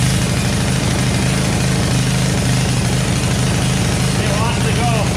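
A Troy-Bilt Super Bronco tiller's small engine runs steadily near at hand with a low, even drone, while faint talk sits underneath it.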